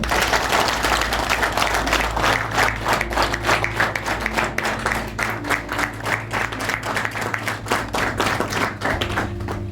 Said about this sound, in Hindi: आइए शुरुआत करते हैं नव वर्ष 2026 की जोरदार तालियों से।